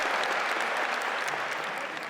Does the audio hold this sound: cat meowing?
no